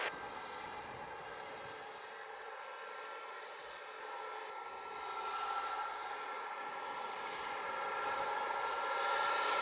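A fixed-wing airplane at Montego Bay airport in Jamaica produces a steady, loud engine roar that swells slightly toward the end, heard alone without voices.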